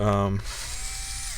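Electric screwdriver backing out a screw from an Alienware M17 laptop during a teardown, a steady whirring drone close by that starts just after a short burst of talk.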